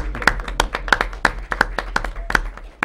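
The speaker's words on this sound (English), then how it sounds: "Let us applaud you." A city council chamber gives a small round of applause for the assistant city manager, a sparse run of distinct close claps from a few people.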